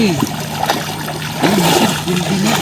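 Water splashes and sloshes close by as a person steps off a boat into deep water, with irregular bursts of splatter and a voice speaking in between.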